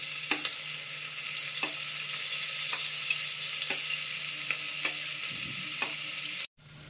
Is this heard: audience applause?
no